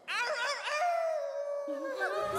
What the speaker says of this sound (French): Ça doit être un chien errant.